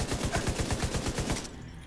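A rapid automatic weapon fires a close, loud burst of about a dozen evenly spaced shots during a firefight in the video game The Division 2, then stops abruptly.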